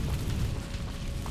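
Confringo fire-blast spell explosion in the Hogwarts Legacy video game, a brief, dense low boom with a rumbling body that stays loud through the short moment, no voice over it.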